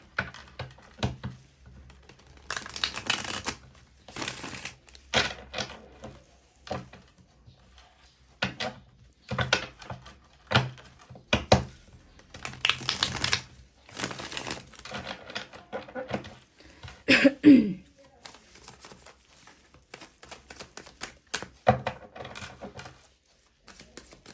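Tarot cards shuffled by hand, soft papery riffles and taps in irregular bursts with pauses between them, close and fairly quiet, with no talk over them.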